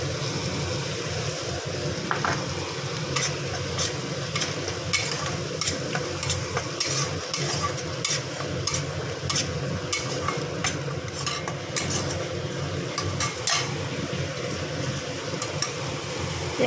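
Ginger and green chili paste frying in a pan for a cauliflower, potato and fish curry, with a steady sizzle throughout and repeated clinks and scrapes of a spatula stirring it, close and fairly loud.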